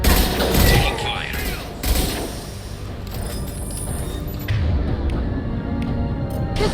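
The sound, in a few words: gunfire in the video game Mass Effect 2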